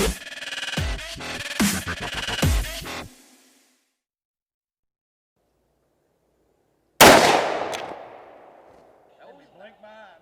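A single loud blast rings out sharply at close range and decays into a lingering rumble after a few seconds of silence, following a stretch of excited talking.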